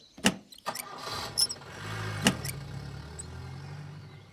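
A car engine cranks and catches, settling into a steady mid-pitched idle, with a few sharp clicks and knocks near the start, fairly close and alone.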